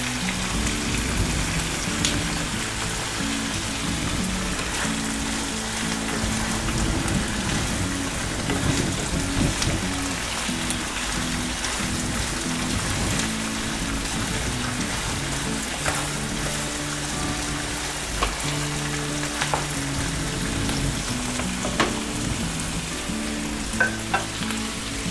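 Chicken fajita ingredients sauté in a hot pan, a steady close sizzle and fry with scraping stirs running throughout, no voices.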